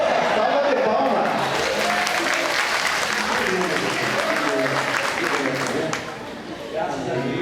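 A church congregation at a Pentecostal worship service claps in sustained, dense applause that holds steady throughout and dips slightly near the end.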